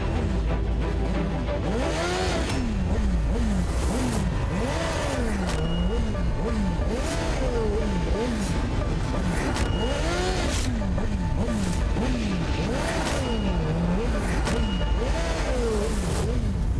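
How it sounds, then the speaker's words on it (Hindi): A motorbike engine revs loudly just outside a wedding hall, its pitch rising and falling in repeated surges that run steadily throughout, close and sustained, with faint voices beneath. "ये हॉल के बाहर इतनी जोर से बाइक की आवाज कौन कर रहा है?"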